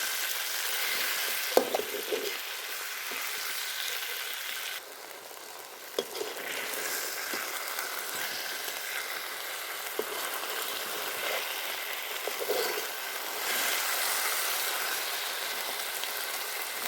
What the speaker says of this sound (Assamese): এয়া এতিয়া মই মাংসখিনি আধা ভাজি হোৱাৰ পিছত আদা নহৰুখিনি দি দিলোঁ ইয়াতে।